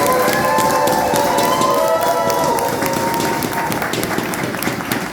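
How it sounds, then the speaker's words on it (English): Big round of applause and cheering from a crowd at a rally for the MC, dense sustained clapping with whoops and crowd noise, fading slightly toward the end. "Please give our MC a huge round of applause."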